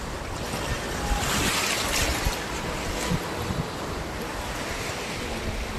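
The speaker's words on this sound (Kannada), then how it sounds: "ಅಲೆ ಹಂಗೆ ಬಂದಿದೆ" Steady roar of ocean surf breaking on a Goa beach, with a rushing wash across the whole clip and wind buffeting the microphone throughout; no voices.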